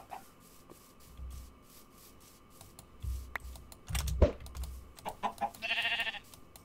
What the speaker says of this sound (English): Oh, I see more sheep.